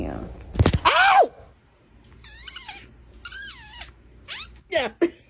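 An aggressive house cat growls and lets out drawn-out, wavering yowls and meows indoors. The cries come in several close, loud bursts with quieter gaps between them, and no one speaks.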